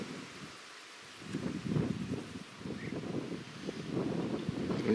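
Wind gusting across open flowering steppe on a hot day, a mid-level rushing and buffeting on the microphone that swells and fades.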